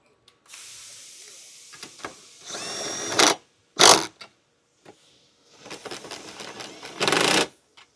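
Tightening the upper bolts on a tire relocation bracket for an Ineos Grenadier, with bursts of ratcheting and power-tool whirring separated by pauses, close and loud with no talking.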